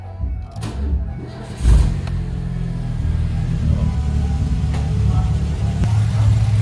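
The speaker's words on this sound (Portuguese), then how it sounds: "motor funcionou, tá?" A Volkswagen AP 1.8 engine cranks briefly and catches, then settles into a steady low idle rumble that continues close and even, with faint voices in the background.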